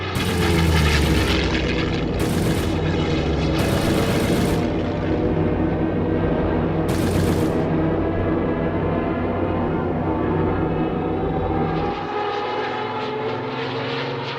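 Battle of Britain-era WWII fighter aircraft flying overhead, a loud continuous propeller engine drone sustained throughout with surging intensity, easing slightly toward the end.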